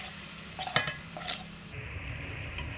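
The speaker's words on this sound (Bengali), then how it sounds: "ছাতুর এই মাখাটাকে ভালো করে নাড়াচাড়া করে ঝুরো ঝুরো করে নিতে হবে।" A spoon stirs a roasted chickpea flour (chhatu) mixture in a pan over medium heat, giving a few scraping strokes against the metal with a soft sizzle underneath, close and fairly quiet, with no one talking.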